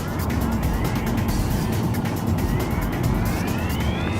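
A 2010 Ford Fusion with all-wheel drive driving a bit above average speed on bendy roads, heard as a steady, loud roar of road and engine noise from inside the car, continuous and without talk.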